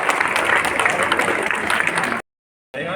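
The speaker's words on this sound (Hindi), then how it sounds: "जोरदार तालियां" Sustained, dense applause fills a school prize-giving ceremony for a cricket tournament, loud and steady for about two seconds before stopping abruptly; after a short silence the clapping and crowd noise resume.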